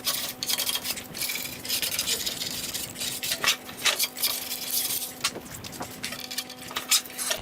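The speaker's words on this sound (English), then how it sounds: "A bucket of sawdust and a sharp putty knife cleans up the glue squeeze out" A sharp putty knife scrapes glue squeeze-out mixed with sawdust off wood while building carpenter's sawhorses, with repeated close gritty strokes and scratchy rasps in an uneven rhythm against a faint steady hum.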